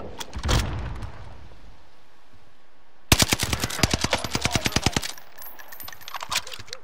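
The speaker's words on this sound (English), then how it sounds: "Where's that dude shooting from?" Rapid automatic gunfire from a shooter video game, a single shot early on, then a loud burst of about two seconds of fast, evenly spaced rounds that stops abruptly, followed by quieter game sounds.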